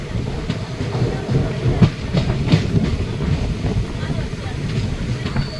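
The Madurai-Guruvayoor Express rolls along between Tenkasi and Kottarakkara, a steady broadband rumble with faint wheel clatter and wind, a voice talking over the running noise.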